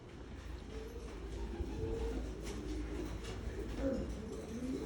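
Racing pigeons coo softly inside a loft, low murmuring calls rising and falling close by over a faint background rumble.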